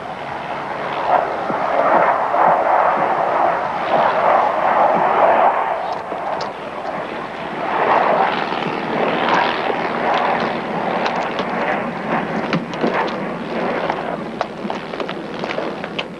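A small plane's engine drones in flight, a loud sustained roar that swells and eases over time with rough, fluttering texture and no clear talk.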